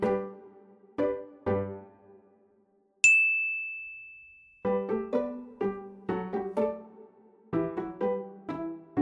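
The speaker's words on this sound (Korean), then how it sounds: "10개마다 띵 하는 알림음을 넣어줬어요." Clear electronic ding chimes mark each set of ten exercise reps during a home workout, ringing out alone: one long sustained bell tone stands out among a series of shorter, evenly spaced dings.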